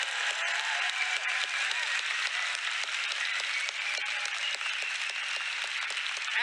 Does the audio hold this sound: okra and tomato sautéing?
no